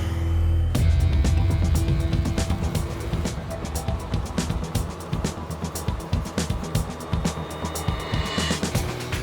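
A BMW police-style motorbike weighing a quarter of a ton, with a top speed of 135, rides along wet roads; engine drone and road hiss run continuously, with repeated sharp ticks and splashes over the noise.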